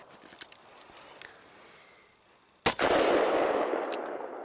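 A Ruger Alaskan .44 Magnum revolver fires a single Buffalo Bore 340-grain +P+ round with a sharp, loud crack that gives way to a long, roaring decay. Quieter faint handling noises come before it.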